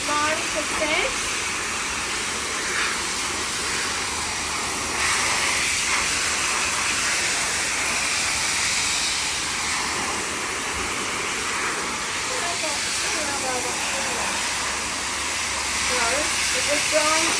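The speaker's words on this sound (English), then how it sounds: "If you had a dog grooming dryer, you'll dry your coat." A dog grooming dryer blows a strong, steady hiss of air onto a dog's coat, continuous and close for the whole stretch, with a person talking now and then over it.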